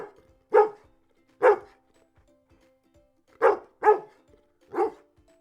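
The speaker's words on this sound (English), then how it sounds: "Dog," A dog barks five times, loud and close, in short sharp woofs: two spaced apart, then a pause, then three more in quick succession.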